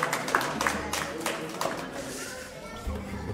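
Applause from a small audience at a casual home concert, with scattered claps rising over a busy background and a voice speaking through it.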